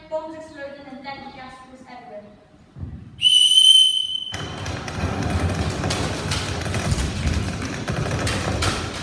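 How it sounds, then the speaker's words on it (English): A single sharp, shrill whistle blast rings out for about a second, the signal for soldiers to go over the top into no man's land in a school leavers' show. A voice is heard before it, and a noisy rumbling scene follows. "Men waited for a whistle to be blown and then had to go over the top into no man's land."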